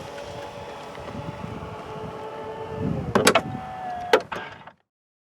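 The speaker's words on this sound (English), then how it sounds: "a couple of buttons here, one to just close the trunk and one to close and lock the vehicle" The powered trunk of a 2021 Audi E-Tron Prestige closes with a steady electric motor whir, followed by a few sharp latching clunks and clicks before it cuts off; quiet and close, with no talk.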